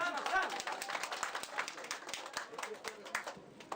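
Wedding guests clap for a couple who have just danced, a dense, steady patter of many hands at close range with voices mixed in throughout.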